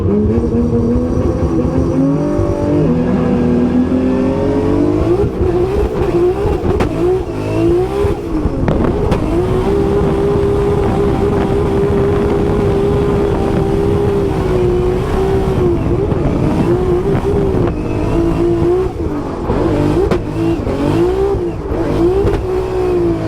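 A drift car at Formula Drift Orlando roars loud and close, its engine revving hard and sustained with pitch swings as it downshifts from fourth to third, running continuously without a break.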